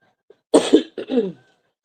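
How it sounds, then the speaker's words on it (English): Two harsh coughs close to the mic, one after another, with silence around them. "Y'all gonna hear me cough."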